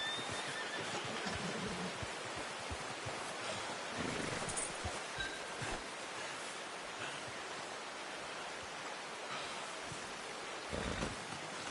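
Horses neigh and whinny in the Red Dead Redemption 2 video game, set against a steady outdoor wash of wind or surf-like noise, with occasional hoof clip-clops and no talking.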